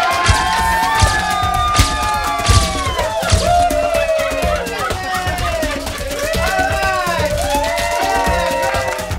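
Crowd cheering and shouting with excited voices for a California Lottery ultimate grand prize winner in Santa Fe Springs, a continuous, loud, dense celebration with overlapping talk and whoops throughout.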